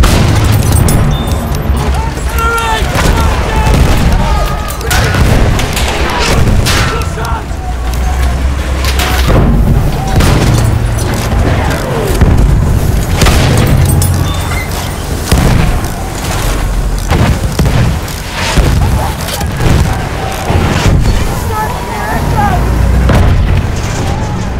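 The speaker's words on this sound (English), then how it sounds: "Machine gun!" Constant combat din in a video game: booming explosions and bursts of machine-gun fire fill the whole stretch, loud and close, while voices shout over the chaos.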